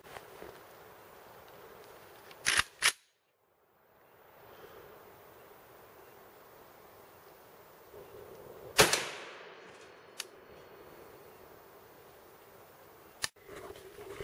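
7.62x39 rifle rounds striking a spaced armor steel plate target outdoors, a few sharp loud cracks spaced seconds apart with ringing tails over a quiet windy background.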